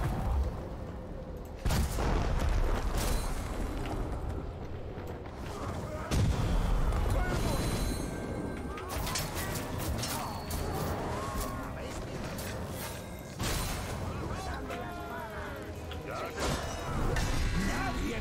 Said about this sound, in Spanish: Hay demasiadas explosiones.